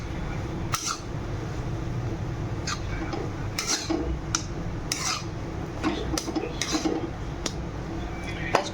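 A spoon stirring and mixing a potato dish with kasuri methi in a pan: irregular metallic clinks and scrapes against the pan, close and moderately loud, with brief quiet speech in between.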